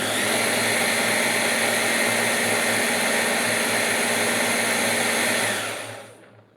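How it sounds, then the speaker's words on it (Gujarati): A blender whirs at full speed, mixing almonds, chocolate, milk and powdered sugar into a milkshake, a loud, steady motor roar that cuts off and winds down near the end. "હવે સરસ રીતે બધું જ મિક્સ કરી લઈએ."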